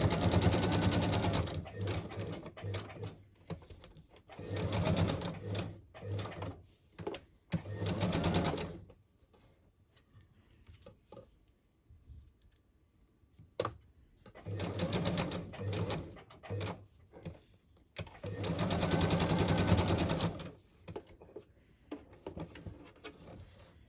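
A sewing machine stitches a fabric embellishment cluster onto a craft project, running in two loud, close bursts of rapid mechanical whirring separated by a quieter pause.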